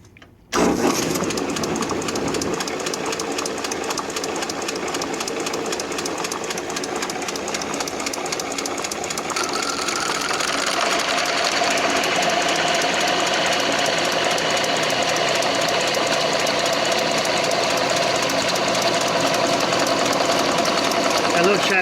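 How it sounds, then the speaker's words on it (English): A Logan 922 metal lathe knurls a workpiece with a loud, continuous rattling, chattering drone that grows harsher partway through, steady and close for the whole stretch. "So now let's go ahead and put a knurl on it"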